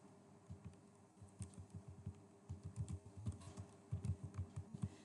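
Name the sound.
typing HTML text on a computer keyboard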